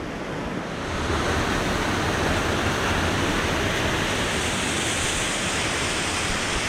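A mountain waterfall roars in a steady, dense, full-bodied rush, close and loud, constant throughout without pauses or voices.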